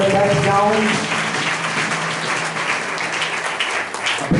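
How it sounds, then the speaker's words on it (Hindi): A church congregation claps loudly after a prayer, dense applause filling the room while a voice speaks over the start. "जोरदार ताली बजाओ"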